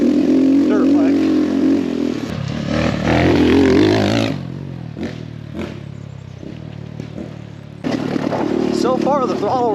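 An X pro Templar 250 dirt bike engine fitted with a Nibbi carb revs in loud bursts close by, with throttle blips rising and falling, and someone talks over part of it.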